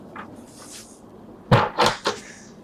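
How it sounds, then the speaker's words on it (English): A yacht's airlock door on an Arksen 85 motor yacht swings shut with a close, solid clunk, followed by two further latching knocks a moment later, set against a quiet interior hush. "This here is an airlock door."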